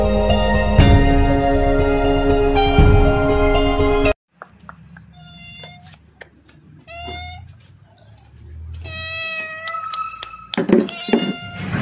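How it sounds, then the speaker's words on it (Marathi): A cat, with a second one nearby, meows several times in short high calls, close and clear in quiet surroundings. People talk softly in the background, and a loud burst of music plays before the meowing begins. "एक मांजर. मांजर एक मांजर आहे आणि ते दोन आहे."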